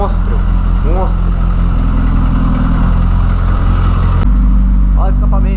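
A carbureted VW Voyage engine idles with a steady, close exhaust rumble that shifts to a deeper, stronger note about two-thirds of the way through, with brief talk-like sounds mixed in.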